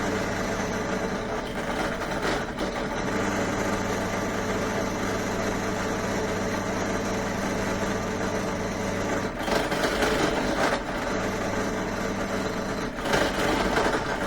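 Drill press rigged as a vertical turret lathe machining metal stock down in diameter, a steady motor drone with continuous cutting hum and brief rougher surges near the end.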